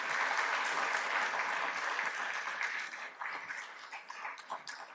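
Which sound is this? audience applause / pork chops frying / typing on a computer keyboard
audience applause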